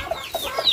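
A backyard chicken gives a quick run of three or four short, close clucks, the burst ending almost as soon as it starts.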